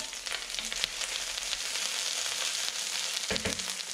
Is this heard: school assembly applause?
no